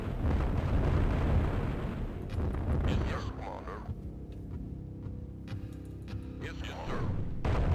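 Heavy explosions tear through enemy buildings in the strategy game Command And Destroy, a dense rumbling barrage at first that thins into scattered blasts and crackling debris before swelling again.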